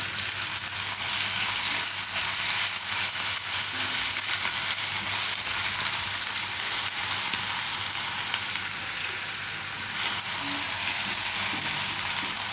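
Ground ginger, chili and garlic fry in a pan with a continuous, loud, close sizzle that holds steady throughout, with no one talking.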